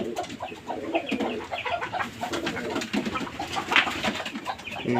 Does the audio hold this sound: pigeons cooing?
yes